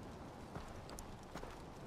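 Goat hooves clop in the video game Far Cry 4, a few soft, scattered hoof taps over a low, noisy game background, faint and irregular.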